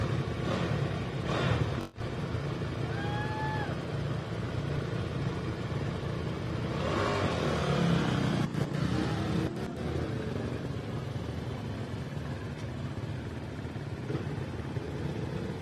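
Honda race motorcycle at the Baja 1000 moto start, a distant engine rumble rising and falling under a steady outdoor roar of crowd and ambient noise, with a few sharp knocks.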